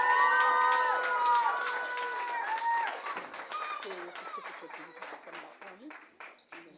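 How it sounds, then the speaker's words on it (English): An audience at a school board meeting claps and cheers for students who won a bronze medal, a burst of applause with shouts and voices that gradually thins out. "Congratulations. Round of applause"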